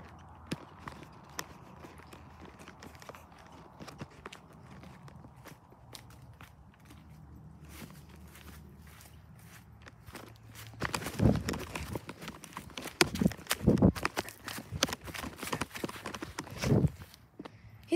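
Footsteps of people moving during a game of hide and seek, faint shuffling at first, then several louder, close thuds and scuffs in the second half, with hushed voices nearby.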